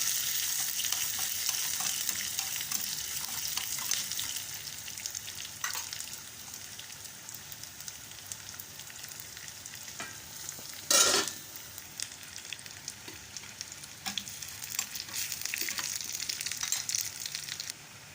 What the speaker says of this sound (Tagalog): nilagyan ko ng mustard seeds. Pag nag-ano na sa crackle na siya, ito ilagay mo ang garlic